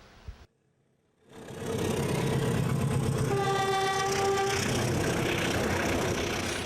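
A train rumbles past loudly and steadily, with a sustained horn blast sounding in the middle of the roar.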